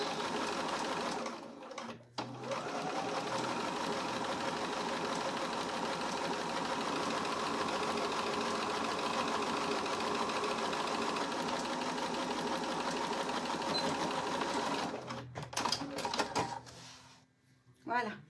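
A domestic sewing machine runs a straight-stitch seam along the full length of a fabric pouch panel. It makes a steady, close, continuous whir for about twelve seconds, with brief stops at either end.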